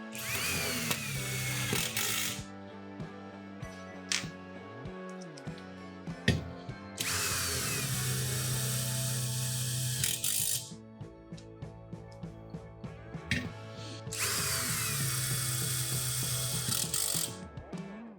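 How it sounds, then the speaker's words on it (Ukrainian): A Procraft PS22 cordless screwdriver drives a screw into a thin 2 mm metal profile, with three loud bursts of motor whine separated by pauses full of ratcheting clicks, close and with no talk. "Беремо Онікс та вкручуємо."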